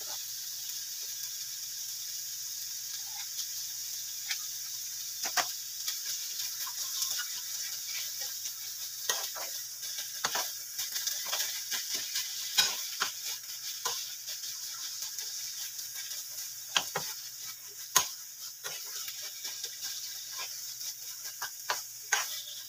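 Philadelphia cheese filling is stirred in a pan over low heat, a soft steady hiss with scattered clicks and scrapes of the utensil against the pan, close and continuous, with no talking.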